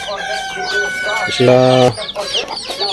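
Chickens cluck close by, and a rooster lets out a loud crow in the middle, followed by more clucking.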